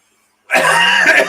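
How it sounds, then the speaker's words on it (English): A single harsh cough bursts out close to the microphone after a moment of silence and lasts about a second. "I may cough a lot."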